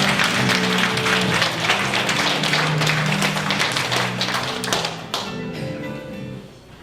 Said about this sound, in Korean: 뜨거운 박수로 환영해 주십시오.